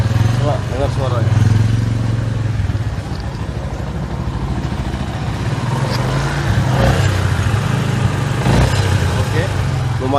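A Yamaha Jupiter MX 135 motorcycle, just repaired for a broken valve, runs in a workshop with a steady low engine hum and a few brief blips of revving throughout.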